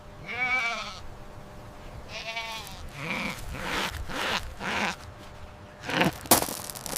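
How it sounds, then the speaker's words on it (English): A goat bleats in a series of wavering, nasal cries, several calls in a row with short gaps, fairly close and loud, some shorter bleats overlapping near the end. "It's a goat."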